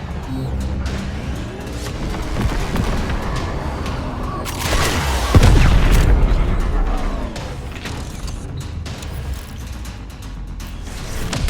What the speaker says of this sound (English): All hands brace for missile impact